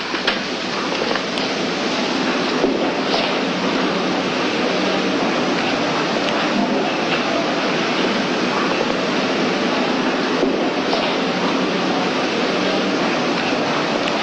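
A steady, loud rumbling roar of a train fills the whole stretch, continuous broadband noise with no pauses.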